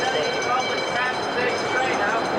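A train rolls through Orotina station in Costa Rica on the line from San Jose to Puerto Caldera, giving a steady, loud rumble and rattle of rail cars close by, with a voice faintly mixed in.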